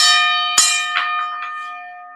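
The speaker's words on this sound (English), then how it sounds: "Let me hit y'all with the Kamal bell." A bright bell sound effect played on a boxing live stream, one ringing strike with a long decaying tone and a few softer follow-up chimes, loud and alone.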